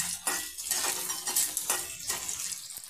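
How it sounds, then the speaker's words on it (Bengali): Onions and chillies frying in a pan for a mashed pea bharta, with a steady soft sizzle broken by scraping stirs of a spoon against the pan, close and fairly quiet, no talking. "পেঁয়াজ আমি লাল করে নেব। হালকা একটু লাল করে নেব।"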